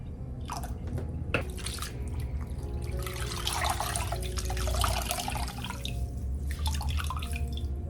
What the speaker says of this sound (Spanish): Voy a estar limpiando con agua y un poquito de vinagre.